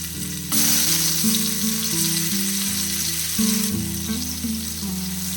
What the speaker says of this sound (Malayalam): ചെറുതായിട്ടൊന്ന് ഫ്രൈ ചെയ്തെടുക്കാം.